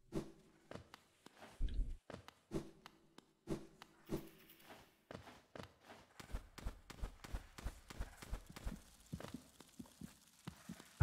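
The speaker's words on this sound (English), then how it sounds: "Where was that heartbeat coming from?" A low, thudding heartbeat in the Hollow Knight game, soft repeated pulses that come irregularly at first and then settle into a quicker, steadier rhythm, faint and muffled.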